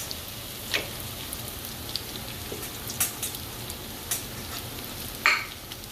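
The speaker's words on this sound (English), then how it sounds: "Now I'm going to add some butter to this." Butter sizzles with potatoes in a pan as a faint, steady crackling hiss. Occasional sharper pops and spits stand out, and the sizzle sounds close but quiet, with no voice.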